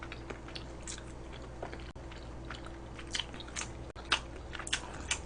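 Large Korean kimchi cheese rolled omelette with egg and heavy seasoning being bitten and chewed up close, soft squishy bites followed by moist, intermittent chewing with no talking.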